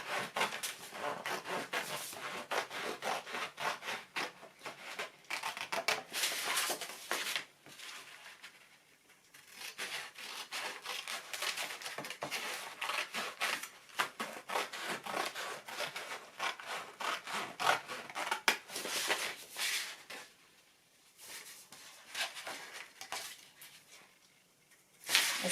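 Folded paper for a concertina book is cut with scissors or a blade, giving soft close scraping and rasping strokes in uneven bursts with brief pauses between, and nobody speaking.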